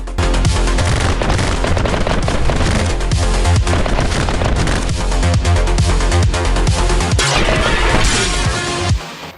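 Dual Uzi submachine guns fire in a video game, loud, relentless automatic bursts rattling almost nonstop for several seconds with heavy booming impacts underneath, cutting off abruptly at the end.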